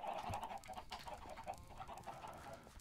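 Chickens on a Minecraft chicken farm clucking in short, repeated bursts, close and moderately loud, with no voices over them.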